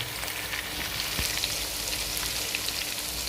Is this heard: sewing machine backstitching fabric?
no